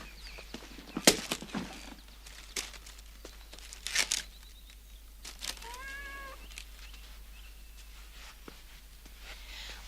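A house cat lets out a single drawn-out meow at moderate distance, surrounded by scattered rustling, crinkling and tapping noises in an otherwise quiet room with no talking.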